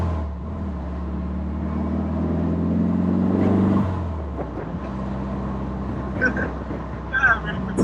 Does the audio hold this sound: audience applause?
no